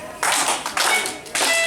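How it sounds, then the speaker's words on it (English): Participants at a Detroit community music-and-dance gathering clap in three short bursts, each a dense patter of many hands, separated by brief pauses. "Clap again."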